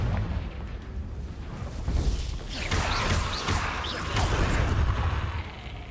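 A Confringo explosive spell goes off in Hogwarts Legacy amid dense, loud layered game effects, with booming bursts and crackling debris over a continuous rumbling background.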